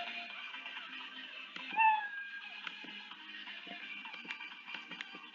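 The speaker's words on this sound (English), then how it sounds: "when it switches to backdrop 2, then it will play the sound meow" Scratch's built-in cat meow sound effect plays once as a single short, clear meow partway through, over a faint background of small clicks.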